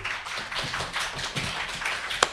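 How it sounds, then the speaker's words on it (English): Audience applause for a program director at the close of an academic roundtable: a steady, moderately loud wash of clapping across the whole stretch, with one sharper clap standing out near the end. "Let's applaud our program director"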